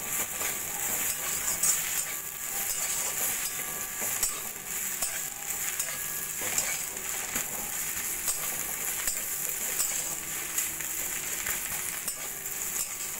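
Mixed vegetables stirred and fried in a pan, with a steady sizzle and scraping stir strokes running throughout at even, moderate loudness with no talking.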